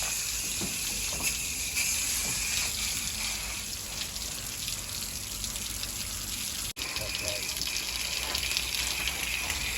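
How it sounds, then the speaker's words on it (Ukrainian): Steady broadband rush of very dirty water gushing out continuously during servicing of a Daikin VRV system, loud and close, with a brief dropout near the end. "тече дуже брудна вода."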